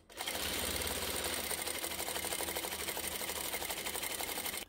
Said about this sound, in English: we'll stitch this together just at the top